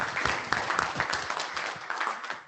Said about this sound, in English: Everybody can applaud.